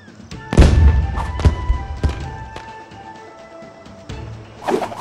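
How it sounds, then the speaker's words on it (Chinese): Firework weapon bursting in the mobile fighting game Bowmasters: a sharp loud thump followed by crackling pops and a second burst toward the end, with brief game effects in between. "烟火啊！"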